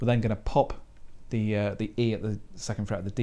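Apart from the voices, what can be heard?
None of the usual background noises is heard.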